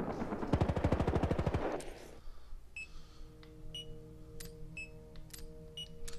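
Rapid automatic gunfire in Battlefield Hardline, a loud rattling burst of evenly spaced shots lasting over a second, then quieter tonal game beeps and hums continuing afterward.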